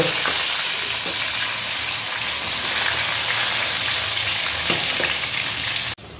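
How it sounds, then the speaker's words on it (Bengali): Potatoes fry in oil for chicken biryani, a constant dense sizzle and crackle, fairly loud, then the sound cuts off abruptly near the end. "লাল করে আলুটা ভেজে নাও"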